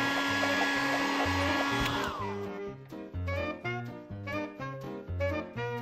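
A hair dryer drying hair whines steadily and loudly for about two seconds, then winds down and cuts off as bouncy cartoon music takes over.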